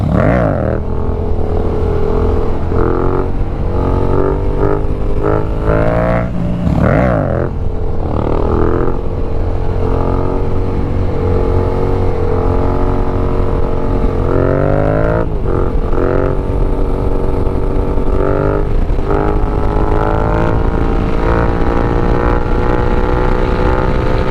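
A motorcycle engine during wheelie practice, running loud and continuous with repeated rising revs and throttle blips, close to the microphone and dominating throughout with no clear speech.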